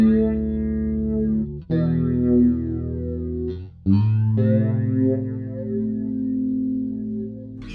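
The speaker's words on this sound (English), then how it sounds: "Now I'm going to switch the flanger on so you can hear that side of the pedal." Bass guitar run through the flanger side of an MXR M83 Bass Chorus Deluxe, rate near three o'clock, giving long sustained notes a sweeping, whooshing comb-filter swirl; three loud, close phrases separated by brief gaps, with no speech.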